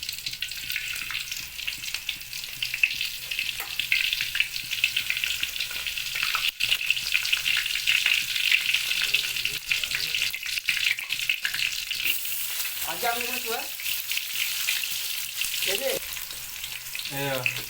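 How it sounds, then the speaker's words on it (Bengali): Onions frying in hot oil for a chicken heart and liver dish, a steady close sizzle with occasional stirring clatter and brief scraping, no voices. "গরম হয়ে গেছে। এবার পেঁয়াজ দেওয়া হবে।"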